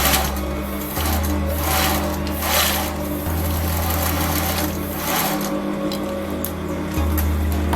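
A sewing machine stitches a folded collar facing, its motor humming in steady runs broken by short pauses, with rapid needle clatter close by.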